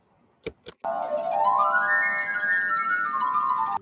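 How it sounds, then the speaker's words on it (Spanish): A wine glass rim being rubbed gives a sustained, ringing high tone whose pitch slowly rises and then falls. It follows two short taps and holds steady and fairly loud to the end. "cuando la persona les frota la boca de la copa, produce estos sonidos así medios agudos"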